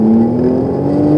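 Ferrari 458 or McLaren Artura supercar engine accelerating hard on a track driving experience, a loud, steady close-up roar with a slowly rising pitch.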